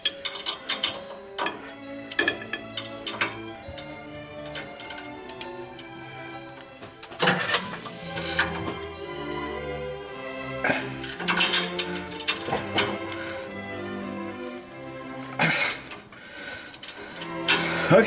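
A ratchet tightens a steering stabilizer bolt on a THOR Quantum 31SE motorhome, with repeated close metallic clicking and clattering bursts of tool work, some heavier clunks partway through, and no clear talking over it.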